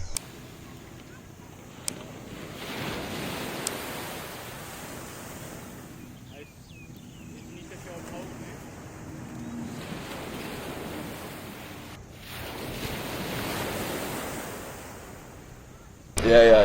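Waves surge and wash at the sea in Hong Kong in slow swelling rushes under steady wind noise, with brief voices.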